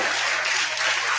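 A studio audience of a daytime talk show claps steadily and loudly, a dense continuous patter of many hands with no voices over it.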